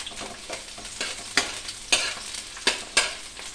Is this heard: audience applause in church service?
no